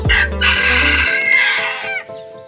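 A rooster crows once, loud and close, a drawn-out strained call that rises and then trails off over about two seconds.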